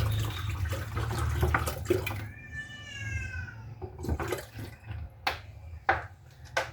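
Hot water pours steadily with a running, splashing wash, joined partway by a rising, whistling tone, then a few knocks and clinks near the end.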